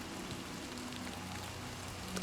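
Rain falling near a shrine in the video game The Elder Scrolls IV: Oblivion Remastered, a soft continuous patter of drops with faint low ambient tones underneath, quiet and steady.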